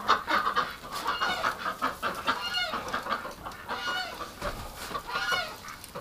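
A flock of ducks squawks and honks loudly nearby in winter in overlapping, repeated calls, rising and falling in bursts.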